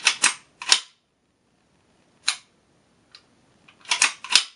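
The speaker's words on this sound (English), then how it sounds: "You can dry fire this." A VMAC45 pistol is dry fired, its trigger and bolt producing sharp, close metallic clicks in small clusters separated by silence, with no talking.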